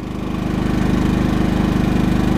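A Champion 3100/2800 inverter generator runs just after a remote start, its small engine chugging loudly and steadily close by with a fast regular pulse.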